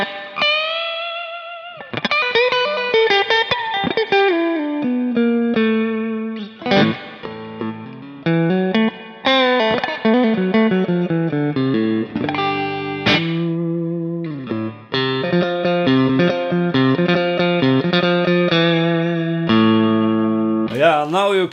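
Electric guitar played through a Kemper Profiling Amp's spring reverb effect with a 1960s surf tone, melodic single-note phrases and chords ringing out with splashy, echoing reverb tails throughout.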